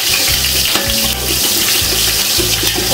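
Onions and green chilies fry in a pan with a loud, continuous sizzle and hiss, close up and alone, with no talking.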